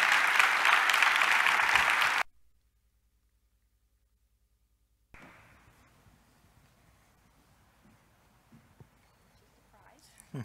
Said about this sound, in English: Please join me in a round of applause for Jack Baker, our 2023 William B. Joyner Lecturer.